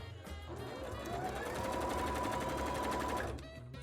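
A sewing machine stitches elastics into a Garbodor-themed bra, running in a steady, fast continuous whir for about three seconds before slowing to a stop.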